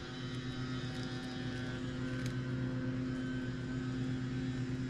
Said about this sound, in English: Oh, I hear my lawn service out there.